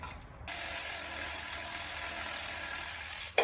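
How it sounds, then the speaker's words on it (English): A small hand ratchet clicks rapidly and continuously while backing out the caliper bracket bolts on a 2008 Toyota Tacoma, a close, even buzzing rattle lasting about three seconds before stopping abruptly. "I'm gonna try to run them the rest of the way out with one little Hobo Freight ratchet."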